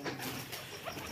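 Low, soft cooing of an old domestic pigeon, faint and close, a brief murmuring call with no talk over it.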